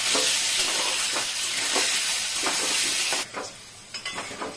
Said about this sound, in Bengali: দিয়ে আলুটাকে ভাজবো ভালো করে